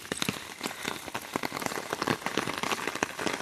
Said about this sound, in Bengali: সারাটা দিন এরকম ঝিরি ঝিরি ঝিরি ঝিরির থেকে একটু বেশি বৃষ্টি হয়েই যাচ্ছে